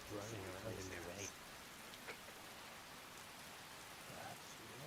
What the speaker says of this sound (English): Running around in the rain.